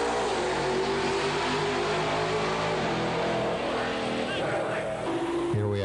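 An all-steel Volvo drag racing car of about 2,600 pounds roars loudly and steadily, its engine tone shifting as it pulls away, with a voice talking over it.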